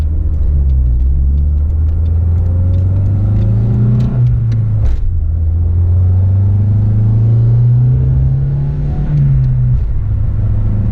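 A 1988 Vauxhall Astra mk2 GTE from the 1980s accelerating, its engine heard close and loud as a rising drone that peaks, drops at a gear change, then climbs again before easing off.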